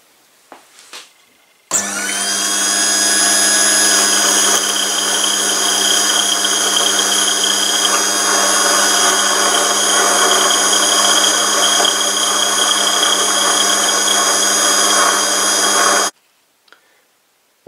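A power drill fitted with a 2.1mm bit bores through a metal axle for a split axle, a loud, steady high-pitched whine running about fourteen seconds before stopping abruptly.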